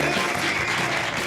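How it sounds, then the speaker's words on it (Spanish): Loud, steady applause from an audience for a singer, a dense wash of clapping from a full crowd that holds at the same level throughout. "Fortíssim aplaudiment."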